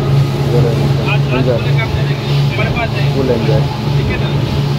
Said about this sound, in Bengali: আওয়াজ প্রচণ্ড, নয়েজ প্রচণ্ড আসছে, কারণ বোটটা চলছে বলে।